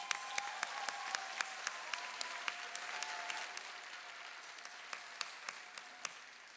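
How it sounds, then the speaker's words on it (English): Applause rises from the audience at an adult education graduation ceremony, a steady, moderately distant patter of many hands, with a few sharper individual claps standing out near the microphone. "Can we have one more applause?"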